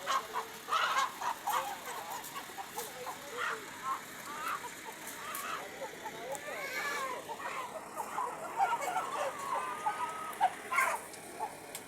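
Chickens cluck and a rooster calls amid an outdoor crowd, with people talking nearby and intermittent bird noises throughout.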